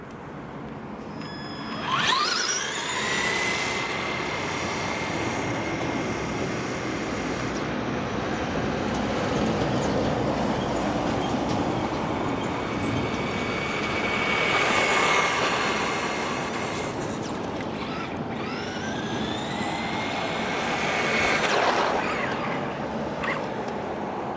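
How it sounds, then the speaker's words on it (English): A Traxxas Bandit RC car on new road tyres runs on a road with a continuous high electric motor whine. The pitch rises and falls in several acceleration sweeps, and a bed of tyre and road noise sits under it. "Traxxas Bandit with the new road tyres, giving it a run on road"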